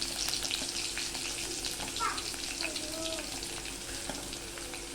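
Spice masala frying in hot oil with mustard seeds and garlic for a whole masoor bhaji, a steady close sizzle with light stirring and faint crackles throughout.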